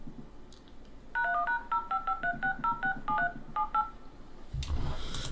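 A mobile phone dials out with a run of about a dozen short, clear keypad tones in quick succession, followed by a brief louder burst at the end; no talking during the dialing.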